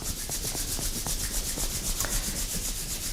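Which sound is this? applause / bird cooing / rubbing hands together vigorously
rubbing hands together vigorously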